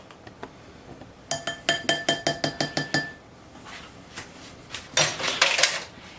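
A utensil mixes salt into a flour mixture in a bowl, giving a rapid run of about a dozen bright, rhythmic clinks against the bowl, a pause, then a denser scraping, clattering burst.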